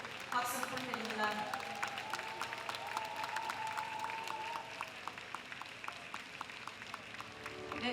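Crowd applause and cheering at a national teachers' rally as lawmakers are welcomed onto the stage; steady, dense clapping fills the whole stretch, with voices and a loudspeaker announcer talking over it.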